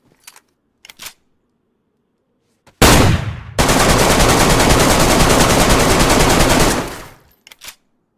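Gunfire from a gun pulled during a confrontation: one loud sharp blast, then a sustained dense roar of rapid shots lasting about three seconds, followed by a few faint clicks, with near silence around it.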